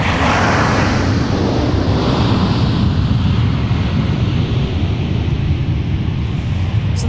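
FedEx 798 Heavy, a widebody freighter inbound from Memphis at MSP airport, gives a loud, steady, broadband engine roar that stays constant throughout with no voices.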